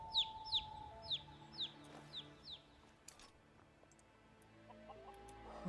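Chickens clucking in the video game Skyrim, a run of sharp, rhythmic clucks close by at the start, then quieter scattered clucks over a faint ambient background.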